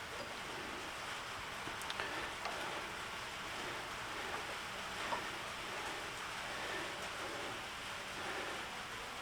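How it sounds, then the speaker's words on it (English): Steady rain falling outside, a constant soft hiss of drops with occasional faint patters, continuous and unbroken with no voices. "Oh great, it's raining."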